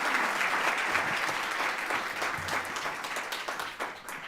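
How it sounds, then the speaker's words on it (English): Audience applause at a City Club of Cleveland gathering for a Say Yes scholarship recipient, steady dense clapping from a room full of people that holds for several seconds before thinning slightly at the end. "You can give that a round of applause."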